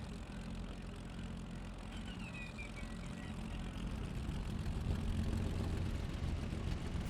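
A Bf109 fighter's piston engine on takeoff in a video game flight sim, a steady, dense drone that grows slightly stronger over several seconds, with no voices.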